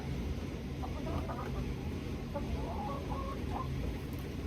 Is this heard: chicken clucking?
yes